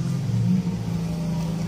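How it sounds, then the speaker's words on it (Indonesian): A motorcycle passes during outdoor drone calibration on flat ground, its engine giving a steady, fairly loud mid-pitched drone throughout with a slight swell near the middle, no voices. "sorry ada motor yang lewat"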